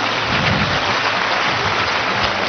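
A stage audience of around two thousand claps to welcome a man up, producing a thick, even roar of applause that continues unbroken throughout.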